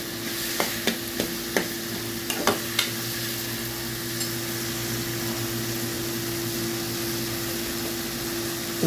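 Tomatoes cook in a pan for an okra buttermilk curry, a steady close sizzle under a constant low hum, with a few sharp spoon strokes scraping the pan early on before settling into continuous frying.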